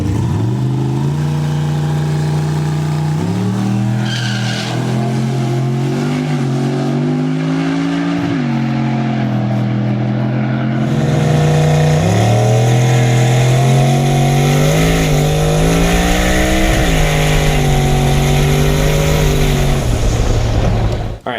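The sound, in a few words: car burnout with revving engine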